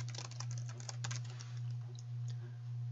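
Quick bursts of keystrokes on a computer keyboard as a name is typed, close and fairly soft, with a steady low electrical hum running underneath.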